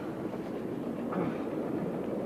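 A train with Pullman cars rolls along in a steady, low, continuous rumble that stays even and fairly quiet throughout, with no voices.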